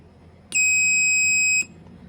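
A steady electronic buzzer tone from a buzzer on a breadboard sounds for about a second, starting and stopping abruptly, loud and close against a quiet background.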